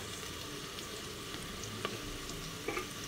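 Onion frying in a pan as garlic paste goes in, a continuous moderate sizzle with a couple of sharp utensil taps and clinks, no voices.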